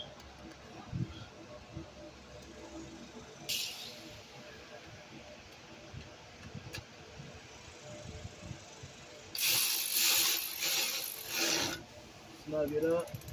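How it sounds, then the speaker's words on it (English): A ratchet tightens a nut on the AC compressor manifold of a 2008-10 Honda Accord 3.5L V6, giving quiet mechanical clicks and scraping. Louder bursts of ratcheting come near the end. "We're gonna tighten this nut from the bottom."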